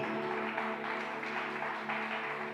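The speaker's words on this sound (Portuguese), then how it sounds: "Vamos aplaudir ao Senhor." A church congregation applauds steadily under sustained music or organ tones, the clapping a dense continuous wash with no pauses.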